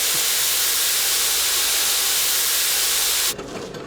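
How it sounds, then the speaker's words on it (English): Loud, steady steam hiss roars continuously from an overfired coal boiler blowing out nearby in a steam-driven pottery factory, then abruptly cuts to a quieter background rumble near the end. "that thing you can hear making the noise next door, that's a boiler"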